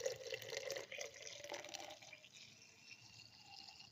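Water pours into a blender jar of mint leaves for mint juice, a soft splashing trickle that is loudest at the start and then thins to a quieter fill.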